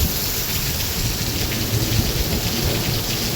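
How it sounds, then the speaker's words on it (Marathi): A full monsoon downpour with thunder in Maharashtra: loud, close, continuous rain pounding surfaces under a low rumbling thunder bed, unbroken for the whole few seconds and with no talking. "हा पाऊस तर फुल पडला रे एकदम नंबर 1 पाऊस पडला का"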